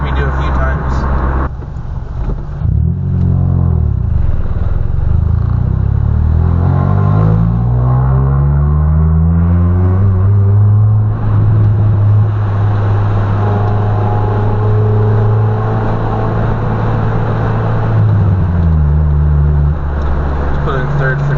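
Manual car engine droning steadily while driving, its pitch rising as the car accelerates, then dropping and climbing again with a gear change into third, loud and close with someone talking over it.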